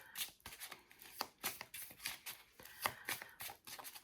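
Tarot cards being shuffled by hand, soft rapid riffling and slapping in repeated bursts, close and quiet with no talking.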